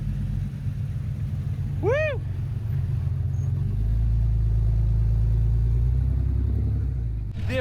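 A Jeep grinds off-road during a Jeep-versus-Ford-Bronco contest, its engine rumbling low and steady close by, with a brief shout and other voices around it.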